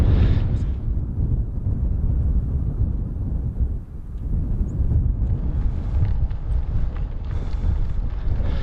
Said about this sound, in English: This wind is right in my face.